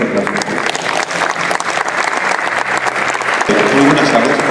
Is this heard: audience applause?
yes